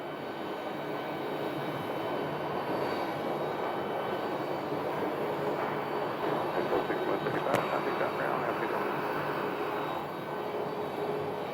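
A Boeing 737 Max 8 airliner at Phoenix Sky Harbor airport gives off a steady, broad jet engine rumble that stays constant at moderate distance, with a faint voice underneath.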